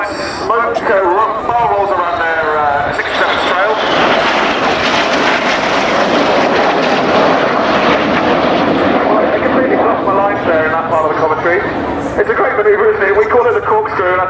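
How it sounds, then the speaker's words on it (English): Red Arrows jets fly inverted in close formation at an air display, making a loud, sustained jet roar that swells and shifts in pitch as they pass. A commentator talks over the noise. "Red 6 and 7 flying inverted close formation."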